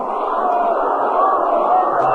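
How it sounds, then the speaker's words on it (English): Dodgers players in the dugout during a 1957 game against the Braves holler steadily together in a sustained, muffled crowd roar carried over an old radio broadcast, with no clear breaks. "you can hear them all hollering and clapping hands to Zimmer to hang in there"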